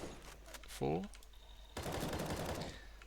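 M4A4 rifle fire in Counter-Strike comes as a short burst of sharp, rapid shots close up, after a brief moment of talk.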